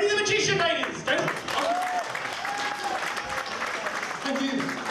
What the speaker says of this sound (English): I'd like to give him a huge round of applause.